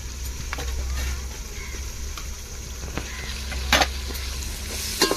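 Ginger and garlic frying in a pan, a soft steady sizzle with a few light scrapes and taps of a stirring utensil, close and moderately quiet, with no one speaking.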